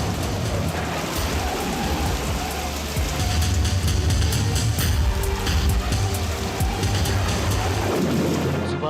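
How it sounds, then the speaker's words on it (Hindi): Heavy rain pours steadily in a loud, dense hiss, with low thunder rumbling underneath and swelling partway through; no voices. "एक गांव में एक दिन भयंकर बारिश होने लगती है।"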